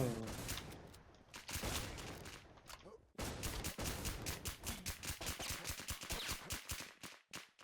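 Rapid bursts of video game gunfire with dense rattling automatic shots, loud and close, pausing briefly before resuming, while a voice talks over part of it.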